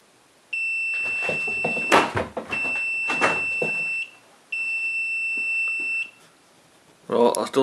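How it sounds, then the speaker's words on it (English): A one-touch HDD/SSD cloning docking station beeps when finished, giving a loud steady electronic tone in three long beeps with short gaps, while a person talks quietly over the first two. "It should beep."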